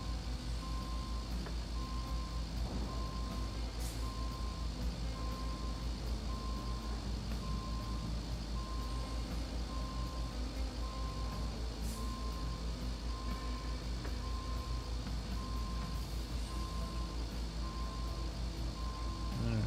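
A truck in the RoadCraft video game reverses with a steady, evenly spaced electronic beeping that repeats throughout over a loud, constant engine rumble, with no talking.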